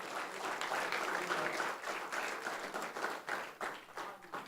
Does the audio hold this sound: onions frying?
no